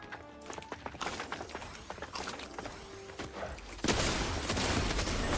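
Rapid gunfire bursts and sharp impact clicks from a Fortnite Zero Build match, followed by a loud, sustained burst of noise near the end.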